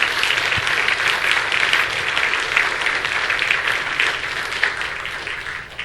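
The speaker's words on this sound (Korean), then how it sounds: "박수 한번 쳐보세요. 박수 한번." A church congregation applauds steadily through the whole stretch, a dense, close wash of clapping that holds at an even level without a break.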